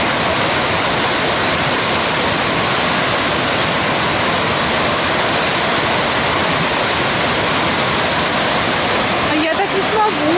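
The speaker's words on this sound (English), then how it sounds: "this is the river Akkem" The Akkem, a mountain river in the Altai, rushes loudly and steadily in a broad, unbroken roar close by, with a faint rustle near the end.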